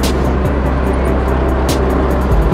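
A PO Sembodo bus pulls away with a steady engine drone and rumble, loud and close, its motor noise continuous for a few seconds with no talk.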